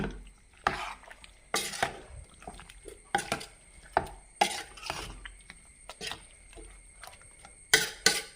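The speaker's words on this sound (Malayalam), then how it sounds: "നമ്മൾ തേങ്ങ ഇട്ടു ഇനി ഇതിനെ നമുക്കൊന്ന് ഇളക്കി കൊടുക്കാം" Aviyal with grated coconut stirred in a pot: repeated soft scraping and knocking strokes in an uneven rhythm, fairly quiet and close, with a faint steady tone behind and no speech.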